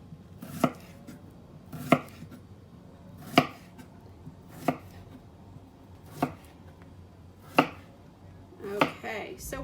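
A knife chops through a striped cucumber on a cutting board in eight crisp, evenly spaced strokes, each a sharp close tap over a quiet room background.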